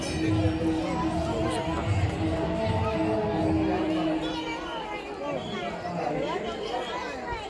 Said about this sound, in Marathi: भरपूर गर्दी आहे. अजून भाविक येतात.